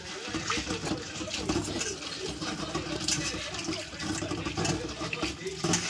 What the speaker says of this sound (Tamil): இந்த கருவாடை தண்ணியில் 1க்கு 2 வாட்டிக்கு நல்லா அலசிடுவோம்